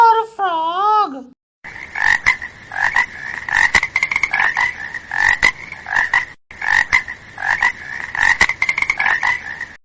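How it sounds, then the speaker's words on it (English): A frog croaks in steady, rhythmic bursts, close and loud, with a brief pause midway and a short warbling sound effect just before it begins. "F for frog."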